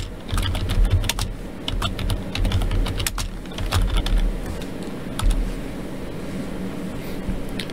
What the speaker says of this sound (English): So here we're going to type in Festo Field Device Tool.